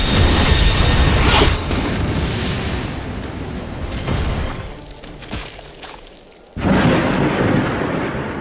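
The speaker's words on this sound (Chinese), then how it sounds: "雷声太大了，我很害怕。" Heavy thunder rolls and booms loudly over steady rain, fading to a lull before a fresh crash of thunder and downpour surges back near the end.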